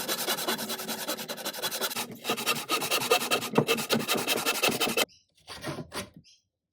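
Handsaw cutting off the excess end of a long wooden beam for a large DIY ladder, a steady close rasping back-and-forth that runs for about five seconds, then two brief final strokes after a short pause.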